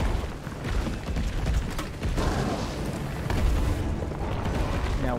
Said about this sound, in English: Now, one more explosion round.